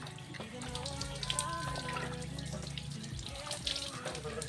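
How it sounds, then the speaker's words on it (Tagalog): Rainwater splashing and pouring during a bath outdoors in the rain, a steady close watery rush with small splashes and a faint voice in the background. "Malamig ang tubig ng ulan."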